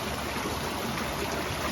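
Water flowing in a stream near an abandoned waterfall in the forest, a steady, faint rushing and trickling that stays constant throughout with no voices.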